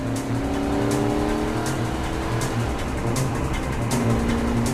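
A car engine roars steadily at speed during a chase-like drive in a Hindi film, with a sustained drone, shifting engine tones and faint whooshes throughout, no speech.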